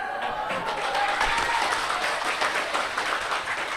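An audience at a motivational talk claps in a dense, continuous round, steady and moderately loud, with faint crowd murmur underneath.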